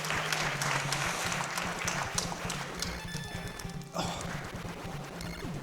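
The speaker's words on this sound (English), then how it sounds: "You can clap if you want." An audience claps at a live speedrun marathon event during a Contra run, the applause blending with busy retro game music and sound effects in a dense, continuous mix.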